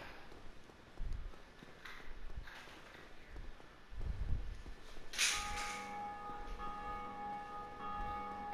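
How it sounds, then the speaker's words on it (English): Bell ringing in the Dark Souls Remastered video game, a bright strike at about five seconds followed by a sustained ringing tone over soft ambient game sounds and footsteps. "Someone ringing the bell."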